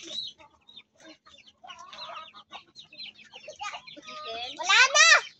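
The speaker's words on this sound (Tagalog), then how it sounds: "Chicken daw, nagagano ang chicken." Chickens cluck on a small farm in a run of short, close calls that grow busier and louder, ending in a loud, drawn-out squawk.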